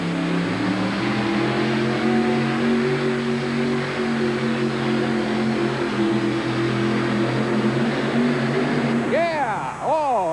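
A pulling truck's engine roars steadily and loudly at a 1988 USHRA truck pull in Denver, Colorado, with harmonic drone holding throughout and a rising rev near the end, while an announcer talks over it.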